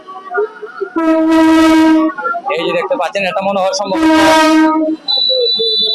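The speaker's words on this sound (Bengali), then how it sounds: "ট্রেনের আগমন আমরা সেই ট্রেনের দৃশ্যটা একটু দেখাই আপনাদেরকে সাথে থাকুন সেই ট্রেন সিলেট টু ঢাকা" A Sylhet-to-Dhaka passenger train near a fair sounds two long, loud horn blasts as it arrives and passes, with someone talking over and between the blasts.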